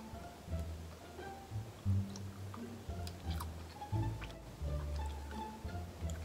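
Close, wet chewing of a chewy, Laffy Taffy-like foreign candy, soft repeated mouth and jaw sounds in an uneven rhythm with small clicks, alone without talk.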